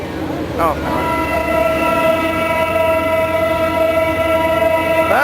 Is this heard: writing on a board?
no